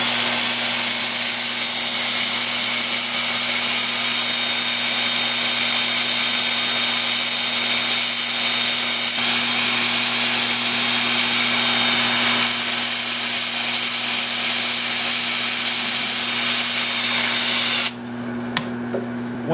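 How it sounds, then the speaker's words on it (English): A power drill spins a sanding disc against a wood piece turning in reverse on a lathe at about 300 RPM, giving a constant loud motor whine and hum with steady abrasive hiss that cuts off near the end. "when I'm finished with the power drill, then I'll peel the disc off and I'll spin the lathe forward"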